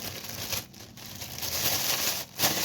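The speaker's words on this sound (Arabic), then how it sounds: "هنا هعمل كيس كمان" A plastic bag is crinkled and handled up close while being prepared for fish in a home kitchen, giving continuous rustling and crackling with brief pauses.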